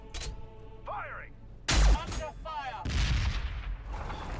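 Leman Russ battle tanks fire in the Warhammer Battlesector strategy game, producing heavy booming blasts with rumbling tails, mixed with in-game voice lines and battle effects.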